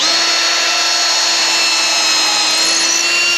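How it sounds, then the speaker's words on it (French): A power drill bores pilot holes into wooden battens for a piece of furniture, a loud, continuous high-pitched whine with a steady motor tone that runs unbroken and close up. "Hop, on fait des avant-trous."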